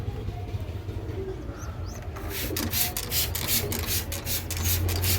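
Pet pigeons give low, murmuring coos through the whole stretch, joined partway by a steady scraping, rubbing noise close by.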